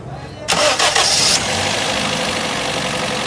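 Toyota GLi car engine cranking and catching, with a sharp starter burst and a hissy rise before settling into a steady, loud idle close by. The car is being checked at a workshop for a tappet noise problem.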